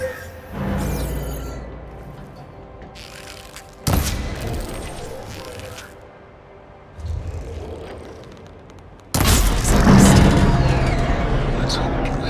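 Shots fired at a machine arm's coupling in Horizon Forbidden West land as several heavy thumping impacts and booming bursts spread across the scene, with loud mechanical clanks and spoken dialogue around them.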